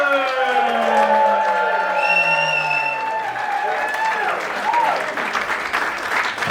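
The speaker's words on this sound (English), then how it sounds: "start clapping now. Start clapping now." A comedy club crowd claps and cheers as a comic takes the stage, with sharp rising and falling whistles over steady applause and a few whoops, voices mixed in.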